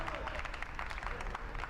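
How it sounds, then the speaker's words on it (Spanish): Spectators at the Lezama football ground applaud in a scattered, moderate patter of clapping, with a commentator talking over it. "Los aplausos del público de Lezama."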